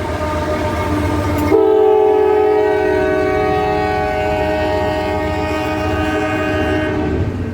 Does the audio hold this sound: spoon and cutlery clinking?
no